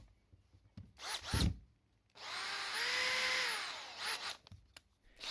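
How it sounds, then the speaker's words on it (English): An old electric drill, restored after a motor repair, whirs up to a steady whine for about two seconds and then spins down, with brief handling clicks before and after. "The drill seems to run normally again, but the chuck is still rusty."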